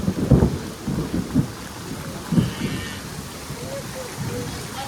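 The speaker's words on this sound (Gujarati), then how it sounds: "તો મિત્રો વરસાદના કડાકા ભડાકા ચાલુ થઈ ગયા છે" Low rumbles of thunder roll in several bursts over a steady wash of heavy rain, while voices talk intermittently nearby.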